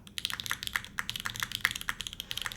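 Brisk typing on a custom mechanical keyboard with Popu switches and a GMK spacebar, crisp poppy clacks close to the ear in an uneven rhythm, with no one speaking.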